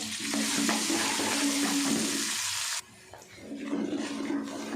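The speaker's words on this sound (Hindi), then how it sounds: "अब इसी ऑयल में हम प्याज डाल देंगे।" Finely chopped onions hit hot oil while making aloo methi, a loud continuous frying sizzle with stirring scrapes that suddenly cuts down near the end to a softer, lower sizzle, with no voices.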